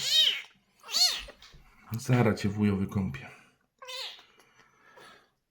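A cat meows repeatedly before being bathed, loud close cries spaced through the moment, with someone speaking in Polish between and over them.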